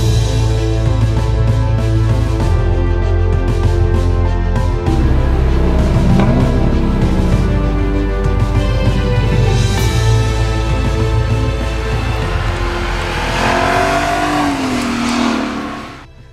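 Lexus LC 500's naturally aspirated 5-litre V8 revving loud and close, a sustained rising roar that climbs in pitch near the end before cutting off, with no talking.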